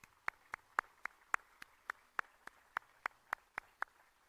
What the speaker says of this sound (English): If you would please join me in a round of applause for everybody and all their hard work.